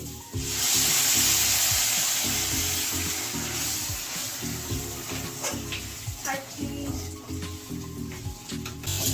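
Hot water poured into a pan of frying dal with spices bursts into a loud sizzling hiss that gradually settles into bubbling and stirring clatter, with occasional speech over it.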